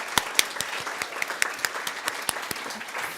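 A small audience at a conference applauds the organizers, with sparse, distinct individual claps ringing out in a loose, uneven rhythm, fairly close and moderately loud.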